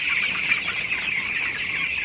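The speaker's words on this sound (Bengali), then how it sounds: "মুরগিগুলো মার্শাল্লাহ এখানে সুস্থ আছে" Broiler chickens cluck and chatter together inside a poultry shed, a dense continuous flock murmur of overlapping calls at close range with no voices over it.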